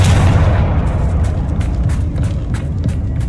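A Confringo fire spell explodes in a video game, a loud, close, rumbling boom that rolls on for a few seconds with crackling bursts layered on top.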